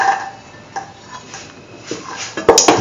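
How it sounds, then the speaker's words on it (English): Chickpeas tip into a pan and get stirred, bringing a few soft knocks and scrapes of metal on cookware that close with brighter clinks near the end. "Now put in the chickpea"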